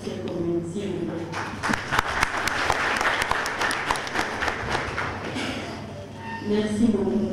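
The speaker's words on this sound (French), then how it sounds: "Je voudrais commencer par nous inviter à applaudir toutes ces communes" An audience at a nutrition project launch event in Benin applauds in a full, steady round of clapping, with a voice speaking briefly at the start and again as it tapers off.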